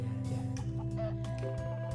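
A chicken clucks repeatedly in the video game Road to Guangdong, fairly close and clear, its calls set over game background tones.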